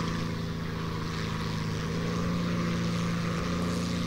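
Float plane propeller engine in War Thunder, a steady, unbroken droning hum with a buzzing tonal whine that holds at an even, close level throughout, with no talking.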